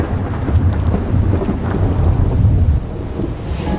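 A thunderstorm pours heavy rain, a loud, dense and continuous roar of downpour with deep rumbling thunder, close and steady throughout without any voices.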